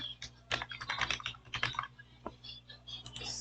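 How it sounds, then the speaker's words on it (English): Fingers type on a computer keyboard at close range, producing quick bursts of clicking keystrokes with short pauses, busy at first and then slower. "So maybe I'll just type my birthday here."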